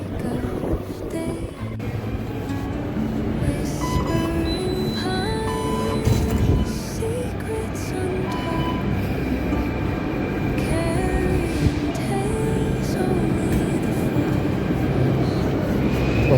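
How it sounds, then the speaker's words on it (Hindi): A Delhi Metro train pulls into Lal Qila station with a continuous rumbling, whirring rush and faint squeals of wheels and brakes, heard up close in a busy station at a steady level. "तो मेट्रो आके लग गई है,"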